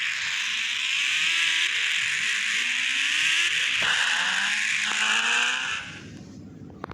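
A Royal Enfield motorcycle engine in the video game Indian Bike Driving 3D roars steadily with shifting, rising pitch, then cuts off abruptly near the end, leaving faint background noise.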